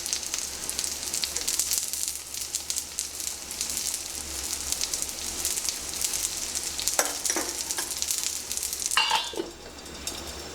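Vegetable balls frying with a few drops of oil added, a steady close hiss and sizzle with occasional small crackles and faint pan clinks, no voices.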